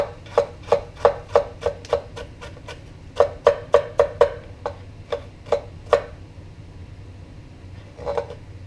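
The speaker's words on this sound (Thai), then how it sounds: "ต้องหั่นหอมใส่หน่อย หั่นหอมแดงอะ" Shallots being sliced with a knife in a home kitchen, a quick run of sharp rhythmic chops, a pause, then another fast burst and a few scattered cuts, close and clear.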